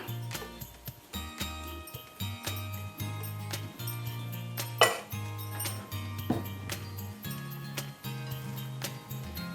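A spatula folding dry ingredients into rose milk tres leches cake batter in a bowl, giving repeated scrapes, taps and clinks at a steady, unhurried rhythm over a sustained tonal background.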